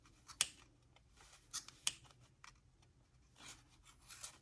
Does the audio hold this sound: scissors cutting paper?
yes